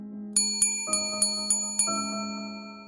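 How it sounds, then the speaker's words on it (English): A service bell in a kitchen dings six times in quick bright strikes, each ringing note decaying quickly, with two deeper tonal shifts underneath, clear and close with no voices. "they'll need to ring the service bell inside the kitchen"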